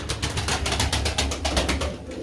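Tumbler pigeons coo in a steady, soft, rhythmic series of low throaty calls, close by and continuous, with a few darker birds among the flock.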